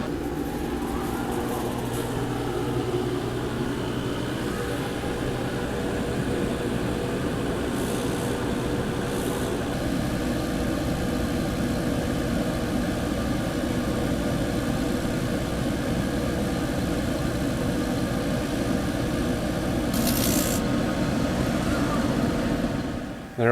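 A laser engraver runs a LightBurn outline cut around the edges of a print-and-cut piece, giving a continuous close mechanical whir and fan hiss with faint shifts in tone throughout.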